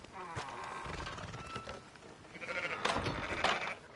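Sheep bleat in Red Dead Redemption 2, several wavering calls rising and falling over ambient game sound, growing louder toward the end.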